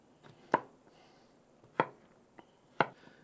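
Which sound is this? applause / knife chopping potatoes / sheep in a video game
knife chopping potatoes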